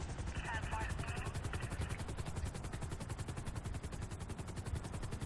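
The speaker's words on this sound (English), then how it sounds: "let me try this explosion out" Rapid, continuous video game gunfire and explosions in GTA V rattle throughout with heavy low booms, a dense, loud barrage of shots and blasts with no pauses.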